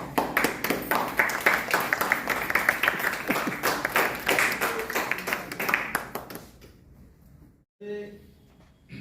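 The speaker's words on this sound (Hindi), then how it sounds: "ताली बजा दो यार, दो चार।" Audience clapping at a Hindi poetry gathering and book launch in a teachers' hall, a fairly close burst of hand claps for several seconds that thins out and stops, followed by a brief voice.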